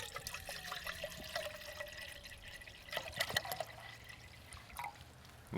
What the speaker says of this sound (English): we're going to pour some water in here